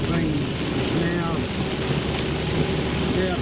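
Rain hisses steadily around a car driving on the road, a dense, continuous wash of spray and drumming with low road rumble beneath, loud and unbroken.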